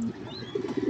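Pigeons kept in a large cage cooing in low, soft, throaty bursts, close and steady for under a second with no voices.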